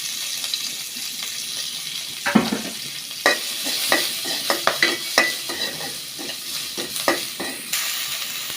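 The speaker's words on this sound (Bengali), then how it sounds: "পেঁয়াজ কুচি দিয়ে দিলাম" Chopped onion hitting a hot pan of fried eggs, giving a steady sizzle with scattered sharp crackles and stirring scrapes, close and fairly loud, no voices.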